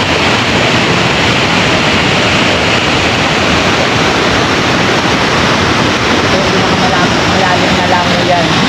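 Talay Falls, a waterfall in Luisiana, Laguna, roars as a steady, loud and dense wash of falling water that fills the whole clip without a break.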